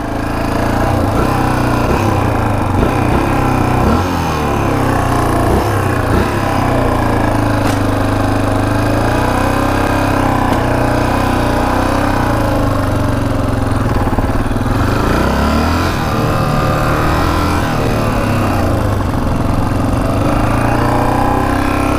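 A rare Honda 500cc motorcycle runs loudly and steadily for the whole stretch, its engine close by with a rough, pulsing idle that rises and falls in revs.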